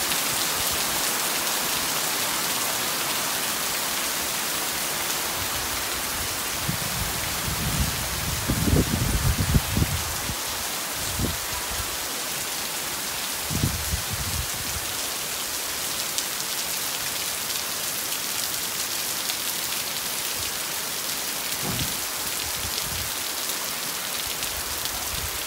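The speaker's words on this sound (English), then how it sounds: "Heavy rain, where is this from? Very heavy rainy season." Heavy rainy-season downpour on Koh Chang, Thailand: a dense, steady hiss of rain on surfaces throughout, with a few low thuddy bumps and rustles mid-way, no voices.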